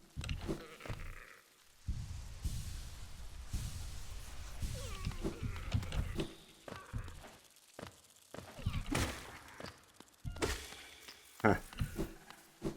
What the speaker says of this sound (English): I think my cat is trying to get attention.